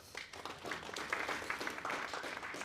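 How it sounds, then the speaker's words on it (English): Audience applause for a presenter at a talk or seminar, a steady wash of many hands clapping that carries on evenly for a few seconds with no voices over it. "Round of applause for Phil."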